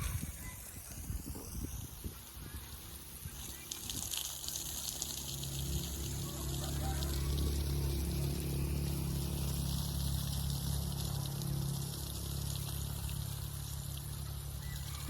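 Water pouring from a hose or container while watering plants outdoors, a steady splashing rush that builds after a few seconds and continues alone.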